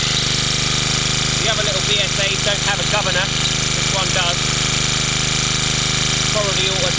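Small 50cc BSA Field Charger engine with electric start, cold-started and fitted with a governor and an added dynamo, idles steadily and loudly up close with a constant buzzing drone, while a voice talks over it partway through.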